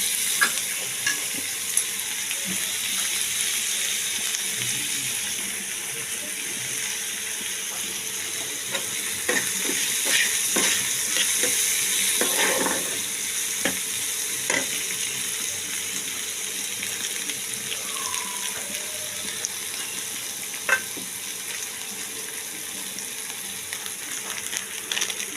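Onions sizzle steadily in a pan for a long stretch, with a constant close-up frying hiss and occasional clicks and scrapes of stirring, and no voices.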